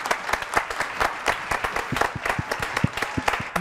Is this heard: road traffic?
no